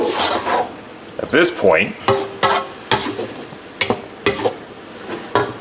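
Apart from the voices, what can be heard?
stirring noodles for a burger mix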